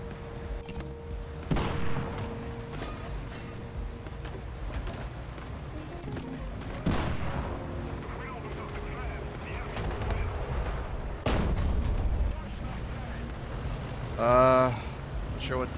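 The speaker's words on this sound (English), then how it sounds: "right now I'm just getting shot from behind" Tank under fire from behind in War Thunder, with several sharp cannon impacts and bursts scattered over steady engine rumble, a player talking throughout.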